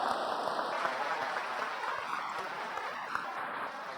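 A church congregation applauding during a sermon, a steady, dense wash of clapping that fills the whole stretch at moderate level, with a few brief high tones over it.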